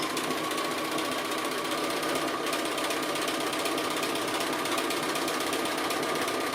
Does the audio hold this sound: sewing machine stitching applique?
yes